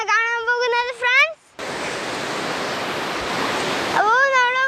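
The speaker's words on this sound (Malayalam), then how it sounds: "അപ്പോൾ നമ്മൾ വലിയ വെള്ളച്ചാട്ടമാണ് ഇവിടെ കാണാൻ പറ്റുന്നത്." A big waterfall in the forest at Kattara gives a steady, loud roar of rushing water, with a voice talking just before and just after it.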